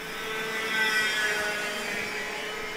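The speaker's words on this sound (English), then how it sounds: "For these drivers utilising the IAMI KA100 motor, 100cc air-cooled motor." Racing karts with IAMI KA100 100cc air-cooled engines drone past during a championship feature race, a steady buzzing engine note that swells slightly and then holds at moderate distance, with no voices.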